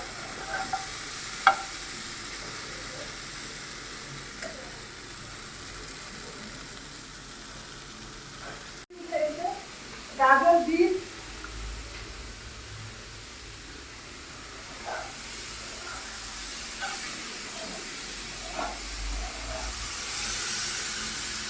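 A pot of curry with peas, potatoes, soybean chunks and lentil dumplings simmers and bubbles under a steady low hiss, with a few louder stirring scrapes and clatters in the middle and occasional soft clinks.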